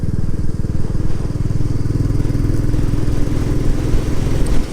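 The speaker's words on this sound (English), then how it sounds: "I just love the sound of that engine when you open it up" A Royal Enfield Classic 350 motorcycle engine opened up on a windy East Yorkshire coastal road, a loud, steady, throbbing single-cylinder drone with rapid regular pulses that holds for several seconds without talk.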